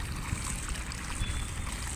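Water runs from an outdoor tap in a steady, close rushing stream, a continuous hiss-like flow with no talk.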